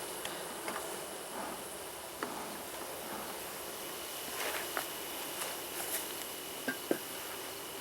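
Agitated honeybees in a hive buzz in a low, restless drone after being smoked, faint and continuous, with a few soft taps and knocks scattered throughout.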